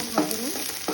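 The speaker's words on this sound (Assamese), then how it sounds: "অলপ সময় ভাজি ল'ম" Chopped brinjal (eggplant) frying in a pan, a steady close sizzle with a couple of brief stirring scrapes over about a second, no talk.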